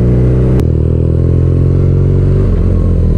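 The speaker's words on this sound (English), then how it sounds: "BMW has one of the best stock sounding exhausts" A BMW R nineT motorcycle's boxer engine on its stock exhaust revs and pulls loudly and close, a steady throaty drone that steps up in pitch after a brief sharp burst near the start, with no talking.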